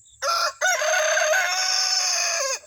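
A pet rooster crows loudly at close range, alone: a brief opening note, then one long sustained cock-a-doodle-doo.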